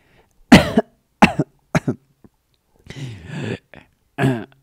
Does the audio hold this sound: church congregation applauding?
no